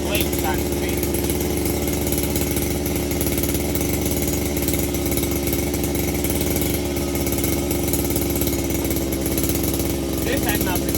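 1998 Cub Cadet lawn tractor engine running after starting, a loud, steady, continuous mechanical drone throughout with a faint voice occasionally underneath.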